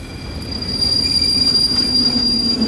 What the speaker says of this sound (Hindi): तभी ट्रेन कहीं रुकी।